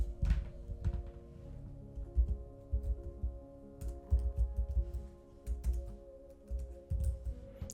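Typing on a computer keyboard while filling in an online application form, a close, quiet run of irregular key taps with short pauses and no talking.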